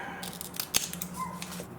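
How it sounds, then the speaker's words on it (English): Scissors snip through sticky tape during a frame-making craft, giving a single sharp close cut among faint rustling handling noises. "And now I will use the scissors to cut off"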